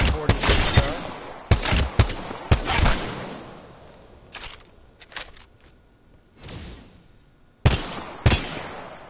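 G7 Scout rifle firing in Apex Legends, a handful of sharp, spaced single shots with brief tails, loud and close, with quieter gaps and faint background noise between them.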